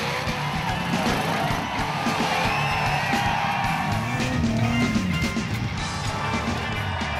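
Crowd cheering and whooping at a 4WD competition stage, a steady broad roar of many voices that holds loud from start to finish, with scattered yells rising above it.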